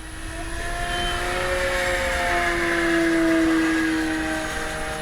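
An Avios Grand Tundra V2 RC airplane flies at full speed overhead, its propeller motor making a continuous buzzing drone that swells as it passes nearer and then eases, with wind noise underneath.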